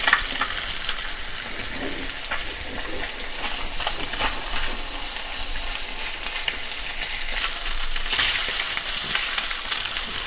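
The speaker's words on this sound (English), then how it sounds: "you know we are ready to flip our fish" A tilapia fillet sears in a pan with an even, close sizzle while a fish slice turns it, with faint scraping over the constant hiss and no speech.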